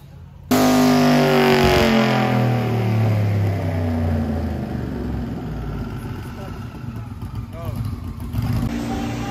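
Car engine running a full pull on a chassis dyno, a loud sustained roar climbing steadily in pitch after a sudden start, then easing off near the end, with voices faintly underneath.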